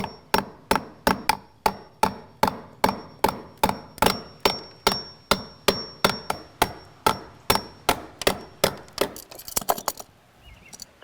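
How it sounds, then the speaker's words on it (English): Chisel struck repeatedly to cut out a wooden block while fitting a round junction box, giving about two dozen sharp, evenly spaced close knocks that speed into a rapid flurry before fading. "Should be able to chisel just this block out a little bit."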